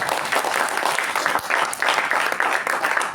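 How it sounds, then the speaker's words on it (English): A room of attendees at a Toastmasters meeting gives a round of applause, steady moderate clapping with rhythmic swells throughout, no speech over it. "Let's give a big round of applause to our Saketh."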